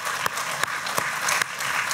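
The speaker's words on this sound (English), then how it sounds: "they deserve a round of applause" Applause from the audience at a keynote talk about music and the planet, given in honour of the Indian Forest Department: a steady wash of many hands with a few sharper individual claps standing out, moderately loud throughout.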